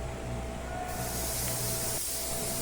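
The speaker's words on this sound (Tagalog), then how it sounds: "nag-spray na rin ako ng blender doon sa gilid ng ating ire-repair" Blender solvent sprayed from a spray gun onto a car panel edge during paint spot repair, a steady close hiss that brightens partway through and breaks off briefly near the end.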